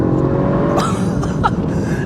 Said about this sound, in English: the overall package of the noise, the induction, and just the amount of power is just a really nice amount for this car